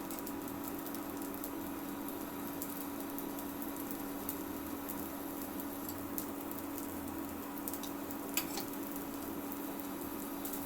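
A dosa of rice and urad dal batter frying in oil on a hot pan, with a steady, even sizzle throughout and a few faint ticks and clinks near the end.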